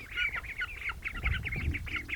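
Repeated nasal quacking and honking from several Indian Runner ducks, chattering steadily over a low rumble of background noise.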